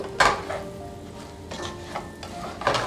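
Herbed baby potatoes coated in masala and oregano are tossed in a hot pan, with steady sizzling broken by several scraping, clattering stirs of metal on the pan close by.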